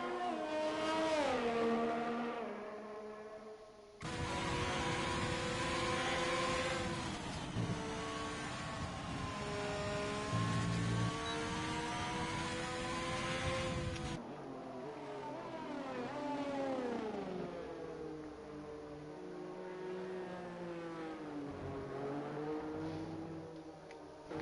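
F1 race cars on track in a racing video game drone continuously at varying engine pitch, several cars passing and shifting gears, steady and moderately loud with no talking.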